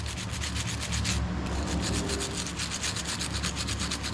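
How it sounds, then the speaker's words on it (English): Electrical connections on a 2005 Husqvarna YTH2448 ride-on lawn mower are rubbed clean, a steady rapid scratchy scrubbing that runs loud and continuous. "Always a good idea to just clean up your connections."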